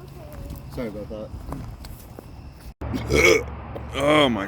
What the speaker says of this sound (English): I've been burping a lot again today